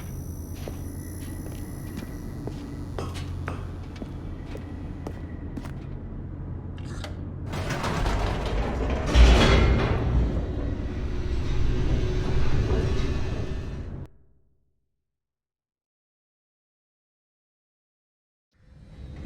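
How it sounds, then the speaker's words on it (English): An elevator descends in The Stanley Parable video game, a low mechanical rumble with light clanks that swells into a heavier roaring rush, then cuts to silence. "The elevator raced downward, plummeting towards an unknown fate."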